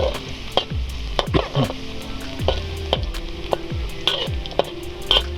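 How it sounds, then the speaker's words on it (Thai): Aromatics sizzle steadily in hot oil as they fry until golden, in a dish of fried tilapia with ginger sauce. Close, continuous frying carries repeated clinks and scrapes from stirring. "เราก็เตรียมเจียวให้หอมๆเหลืองๆครับ"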